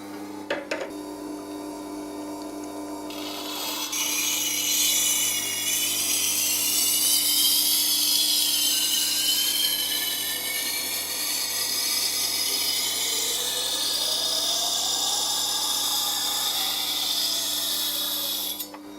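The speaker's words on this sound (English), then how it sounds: "let's sharpen the knife." A knife is sharpened on a powered sharpener, the motor humming steadily before a continuous high, whining grind of blade on abrasive that rises and holds loud for about fifteen seconds with slight pitch shifts as the blade moves.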